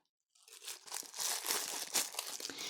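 A small plastic sachet of cross-stitch needles crinkling and rustling close up as it is handled, starting after a brief silence and continuing in quiet, uneven crackles.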